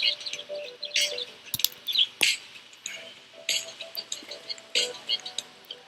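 Cartoonish bird chirps from the video game Skatebird come in short, repeated bright bursts with a couple of sharp clicks between them, close and moderately loud.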